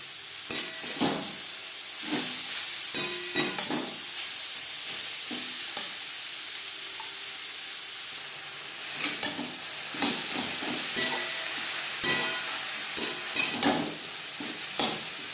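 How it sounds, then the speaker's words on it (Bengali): Grated carrot fries in ghee in a kadai, a constant close sizzle with bursts of spatula stirring and scraping that come in clusters and pause in between, no voices. "4-5 মিনিট গাজর ভেজে নেব।"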